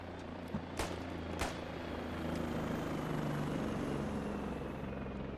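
Helicopter in the military shooter game Squad, a steady loud rotor and engine drone with harmonic hum filling the whole stretch, two sharp clicks near the start, no speech.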